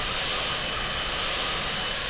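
Airbus A380 engines idling on the tarmac by the active runway at Paris in Flight Simulator 2020, a steady, loud jet roar with broad hiss, unbroken and alone.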